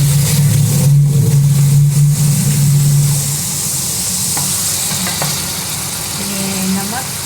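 Tomatoes fry and get stirred in a pan for a smoked seekh kabab curry, a steady close sizzle with scraping stirs, and a low hum fading after a few seconds.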